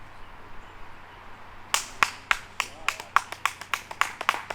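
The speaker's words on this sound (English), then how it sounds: "Solid claps. Very solid claps." A single fan clapping his hands at a disc golf charity open in Waco, a string of about a dozen sharp, solid claps in steady rhythm, close and loud against quiet outdoor background.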